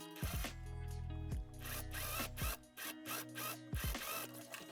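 Domestic sewing machine stitching a shoulder seam on an Edwardian-inspired winter dress: a few short whirring mechanical bursts with stops and starts, close and clear, with clicking mechanism sounds between runs.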